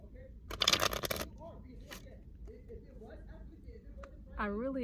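Playing cards riffle-shuffled in a quick, loud, crackling burst lasting under a second near the start, followed by quieter handling and a person talking.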